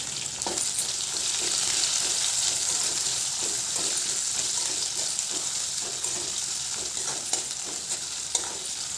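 Finely chopped onions for a spicy matki usal sizzle and crackle steadily in hot oil in a pan, with occasional stirring scrapes running under the frying throughout.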